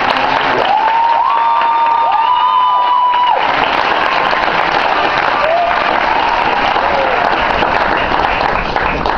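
Crowd clapping at the curtain call of JGP's The No Name Play, dense continuous applause throughout, with a sustained tonal whistle-like sound riding over it in the first few seconds.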